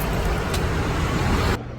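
A rental car drives along a road, with a steady broadband rumble of tyres and engine heard from inside, which drops abruptly near the end.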